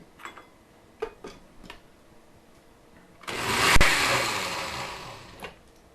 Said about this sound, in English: And we blend again.